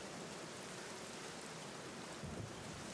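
Steady rain in a horror video game, a dense even hiss of falling drops that fills the whole clip at a constant level with no voices.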